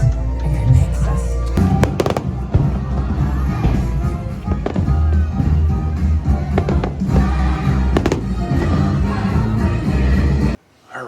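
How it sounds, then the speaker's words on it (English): Fireworks show at Disney's Hollywood Studios: dense, rapid booms and crackling bursts go off nearly continuously for about ten seconds, loud and close, with crowd noise and a voice mixed in beneath, before a sudden drop to near silence. "The fireworks were awesome, by the way."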